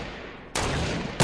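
Semi-automatic gunfire in the battle royale game Fortnite, a loud burst of shots starting suddenly partway through and running continuously, with another sharp shot at the end.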